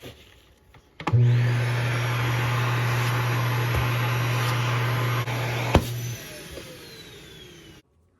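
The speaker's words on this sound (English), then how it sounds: "there's a built-in vacuum that, in the kitchen specifically, when you're sweeping the floor, you sweep it right up to it and it sucks it right in" A built-in kitchen floor vacuum in an RV fifth wheel switches on with a thump and runs as a steady, loud whooshing motor hum with a low drone for several seconds, then cuts off abruptly.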